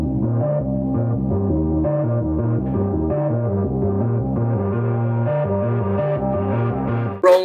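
A Korg MS-20 Mini synthesizer plays a rhythmic bass line of repeated low notes, steady and prominent throughout, ending with a brief sharp click.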